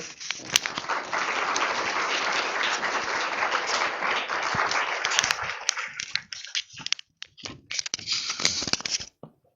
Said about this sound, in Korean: 우리 같이 박수로 환영을 할까요?